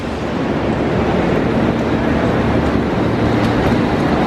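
A broad, steady roar of rumbling noise fills a London Underground platform, like a train approaching or air rushing through a tunnel, loud and continuous.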